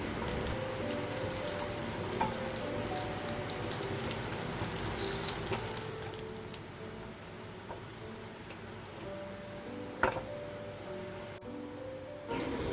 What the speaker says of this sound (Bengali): কাজু কিশমিশ ভাজা হয়ে গেছে